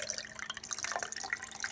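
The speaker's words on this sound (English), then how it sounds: "You can fit 3 eggs in a jar and then go ahead and pour your color" Vegetable dye made from cabbage, a violet liquid, pours over three eggs sitting in a jar, giving a steady, fairly quiet trickling and splashing with small drips throughout, no voices.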